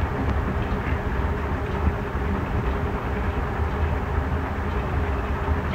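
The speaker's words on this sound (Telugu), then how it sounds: "ఈ ట్రైన్ వచ్చి క్లీన్ చేయడానికి మధ్యలో ట్రాక్స్ మధ్యలో ఏమైనా చెత్త అంతా ఇది క్లీన్ చేస్తుంది." A railway track-cleaning train, an engine hauling two coaches, passes nearby with a steady rolling rumble and low engine drone, moderately loud and even throughout, with no talking.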